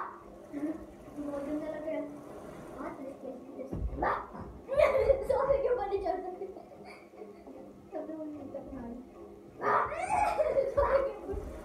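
A pet dog at home near a sofa gives a few short barks and yips, close by, mixed in with someone talking over and between them.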